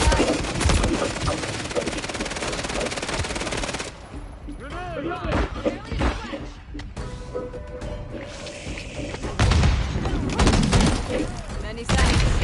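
Heavy, sustained gunfire and rapid machine-gun bursts in Call of Duty Modern Warfare 3, loud and close for the first few seconds, then scattered shots and crashes before another dense volley near the end.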